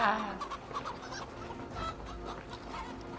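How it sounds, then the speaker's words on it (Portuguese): Several chickens cluck busily as they run about in Assassin's Creed Valhalla, the calls close and continuous with no talk over them. "As galinhas correndo atrás deles."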